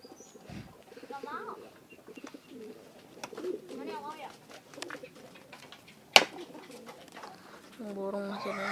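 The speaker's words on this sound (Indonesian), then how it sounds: "Burung masih ada di atas." Pigeons or doves coo in soft, repeated phrases at a bird and Bangkok chicken farm, close by, with people talking in between and a sharp knock partway through.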